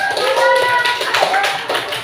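A school class applauds briefly, close and fairly loud, a short burst of scattered hand claps with a teacher's voice and a few pupils' voices mixed in.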